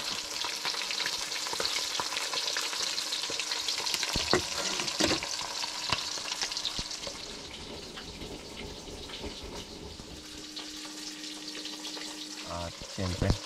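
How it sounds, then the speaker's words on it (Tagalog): Grouper (lapu-lapu) frying in a pan before being cooked into soup, a loud, dense sizzle that eases off midway, with brief knocks and a short running-water sound near the end. "So pinirito mo muna yung lapu-lapu mga ka-adventure bago yung sinabawan."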